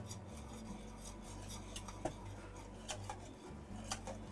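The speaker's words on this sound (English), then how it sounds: "Just keep constantly whisking it" Whisk scraping and ticking against a pot of chocolate pie filling being stirred constantly, faint rhythmic rasping strokes with light metallic clicks, no talk.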